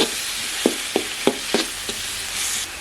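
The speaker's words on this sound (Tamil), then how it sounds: "எல்லாமே நல்லா எண்ணெயிலே வடிச்சிக்கலாம்" Loud, steady sizzle of vegetables and peeled mango frying in hot oil, with a few sharp pops and stirring clicks rising above the constant hiss, and no voices.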